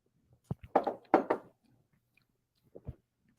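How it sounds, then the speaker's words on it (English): A person chewing and biting up close, a burst of several crunchy bites in quick succession followed by a pause and a couple more chews, quiet between them. "Can you guys hear him chewing?"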